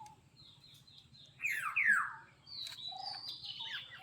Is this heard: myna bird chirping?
yes